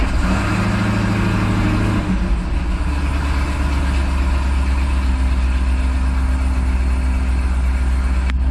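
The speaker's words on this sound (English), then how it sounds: "So I'm going to attempt to start the car, and hopefully this thing starts" A 2005 Chevy Corvette, fresh from fuel system repair work, cranks and catches about two seconds in, then settles into a steady, deep idle with a low, even rumble that carries on close by for several seconds.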